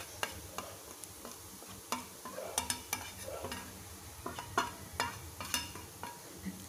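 Masala stir-frying with browned onions in a pan over low flame, a faint background sizzle broken by intermittent spatula scrapes and light clicks, no voices.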